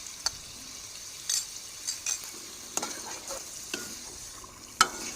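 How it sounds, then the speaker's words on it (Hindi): Mutton qorma with green chilli and lemon is stir-fried in a pot: a soft, low sizzle with scattered sharp scrapes and taps of the spoon, quiet and close, no talking. "और अब इसको अच्छे तरीके से भून लूँगी"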